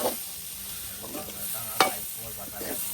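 Mutton intestine sizzling in its own rendered fat in a pan, a steady close frying hiss with occasional stirring scrapes and one sharper clack.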